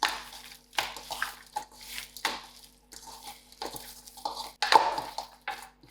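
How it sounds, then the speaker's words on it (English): Bare hands mixing raw lamb chops coated in paprika and mixed herbs in a bowl, giving soft wet squelching and slapping sounds in irregular bursts, close and fairly quiet, with no talking. "So I'm going to use my hands to give it a good mix."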